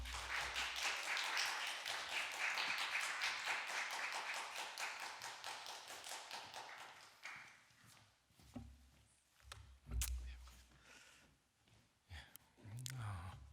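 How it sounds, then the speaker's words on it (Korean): An audience claps steadily and densely to welcome a university professor to the front for a special lecture at a church, the applause tapering into scattered claps and footsteps before a voice begins to speak. "우리 박수로 환영하도록 하겠습니다"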